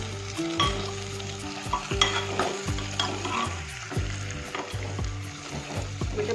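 Brinjal being sautéed in masala in a pan, a close continuous sizzle with repeated scraping and clinking of a spatula stirring against the pan.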